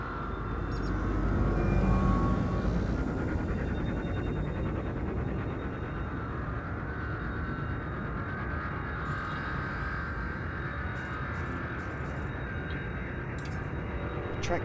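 Spaceship engines in Elite Dangerous as the ship leaves a station: a deep, steady rumbling drone that swells early and then holds, with faint higher tones flickering near the end.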